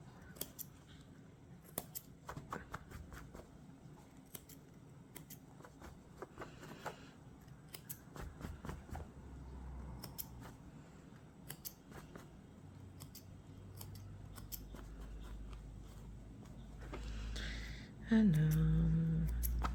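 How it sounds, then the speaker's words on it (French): Scissors snip thread ends flush on a Stitch cross-stitch canvas, a series of close, crisp clicks spaced irregularly across the stretch, followed by a louder low rumble of handling near the end. "Donc là je vais couper à ras"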